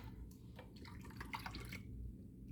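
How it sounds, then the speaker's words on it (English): Cold water is poured into a cup of iced coffee: a short, soft gurgling trickle of liquid splashing over ice, close and quiet, with no voices. "You add a little cold water"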